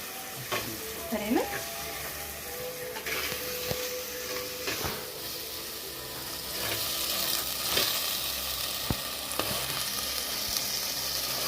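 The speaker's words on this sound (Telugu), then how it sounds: "ఇదిగోండి ఇక టమాటా ముక్కలు వేస్తాం ఇప్పుడు కొంచెం మగ్గేసి నూనె పైకి వచ్చేదాకా" Tomato pieces cook in oil in a pan with a steady sizzle, broken by several sharp spatula knocks and scrapes against the metal, heard up close and moderately loud.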